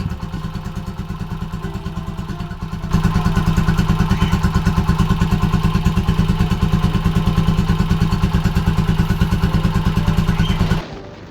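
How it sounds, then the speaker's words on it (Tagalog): A pushrod motorcycle engine idles with a steady, rapid mechanical ticking clatter, close and continuous, rising slightly louder after a few seconds before cutting off at the end. "tong gantong klaseng engine, yung push rod, notorious talaga to para sa lagatik"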